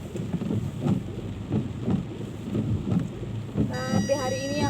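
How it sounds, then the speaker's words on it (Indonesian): Rain falls steadily with a soft patter and low rumble, with a short electronic tone near the end. "Hujan guys, aku kehujanan."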